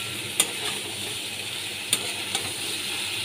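Soybeans are stirred in a cooking pan over a soft steady sizzle, with a few sharp scraping clinks of the utensil against the pan spaced across the moment.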